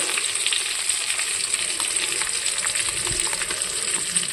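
Turmeric and chilli powder fry in a pan, giving a steady, close hiss and crackle with faint stirring clicks throughout, and no voices.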